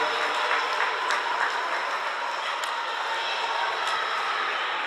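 Bench applause at a women's Serie A2 handball match between Lions Sassari and Sardegna rolls as a dense, steady wash of clapping and crowd noise throughout, with faint commentary underneath.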